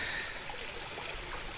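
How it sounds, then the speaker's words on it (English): Running water played from a stereo buried in branches and mud at a beaver dam, a steady, close, hissing trickle and burble with no voices. "Running water is, to a beaver, like the sound of the plug being pulled, draining their pond."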